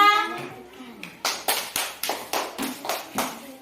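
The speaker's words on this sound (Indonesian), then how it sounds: "tepuk tangan buat untuk kelompok 2" Classroom clapping for a student group in a problem-based learning lesson: after a voice fades, about eight distinct, evenly spaced claps ring out close and moderately loud.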